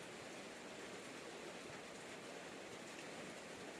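Heavy rain pours onto a house roof during a downpour, a loud, steady, unbroken hiss of dense drops that holds at an even level from start to finish with no voices.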